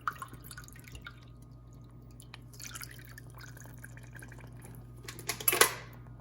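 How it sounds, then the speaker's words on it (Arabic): A cup of water poured into a pot of sugar for syrup for a semolina cake, heard as a short, bright splash near the end after a quiet stretch of faint kitchen noise. "بحط كباية المي"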